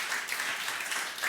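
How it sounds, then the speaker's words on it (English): Audience applause at a startup demo day, a steady even wash of clapping from a seated crowd, moderately loud and continuous with no voices over it. "Big applause, right? To both of them."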